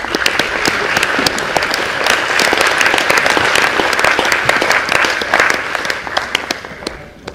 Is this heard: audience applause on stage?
yes